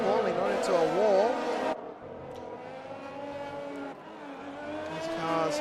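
Formula 1 race cars in a video game on a wet Suzuka circuit, engines whining with sweeping pitch rises and falls at moderate distance, under continuous commentary.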